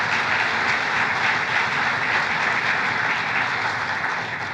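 An audience at a manufacturers' association board meeting breaks into sustained applause, a dense, even wash of many clapping hands filling the room throughout.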